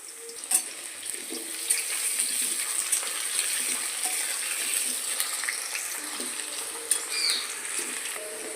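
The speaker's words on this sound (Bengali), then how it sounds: "তেলটা গরম হয়ে গেলে প্রথমে আমি আলুগুলোকে ভেজে নেব।" Diced potatoes fry in hot oil with a steady bright sizzle, broken by occasional pops and the scrape of stirring, close and continuous with no talking.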